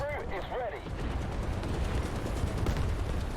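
Tank gunfire in a combat video game: a dense, continuous barrage of booming shots and rumbling impacts, loud and close throughout, with a brief tonal whine near the start.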